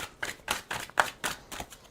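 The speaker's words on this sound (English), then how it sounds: "All right, 2 shuffles." A tarot card deck being shuffled by hand, with a series of about eight quick riffling bursts in a steady rhythm, close and soft, with no talking.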